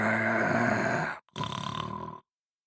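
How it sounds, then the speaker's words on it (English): A low, rumbling growl-snore from a bear in a snowy cave, drawn out in one long breath, a brief pause, then a second rasping snore before silence. The snoring is probably performed by a human voice. "across the snow floated a very low, growling snore"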